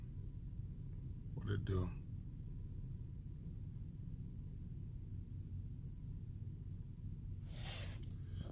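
A 2003 Ford Explorer idles while warming up, giving a low, steady rumble throughout, with a brief spoken remark early on and a soft hiss toward the end.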